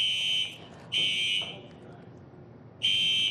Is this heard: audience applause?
no